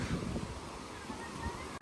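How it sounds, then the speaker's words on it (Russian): Strong seaside wind in Odessa buffets the microphone with a constant rumbling roar and rushing noise throughout. "Я не преувеличиваю насчет ветра"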